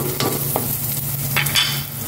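Garlic and pechay sautéing in a pan, a steady close sizzle broken by a few sharp stirring scrapes and clinks.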